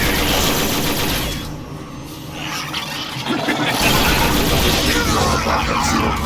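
Rapid laser-style gunfire rattles through a Transformers: War for Cybertron battle in the ruins of Iacon, dense and loud throughout, dipping briefly before surging back amid explosions and vehicle rumble.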